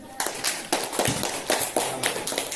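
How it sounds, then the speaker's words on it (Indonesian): Classmates applaud a student in a classroom after a correct answer in a math lesson, a short burst of scattered hand claps at close range with no talk over it. "tepuk tangan untuk Rezi"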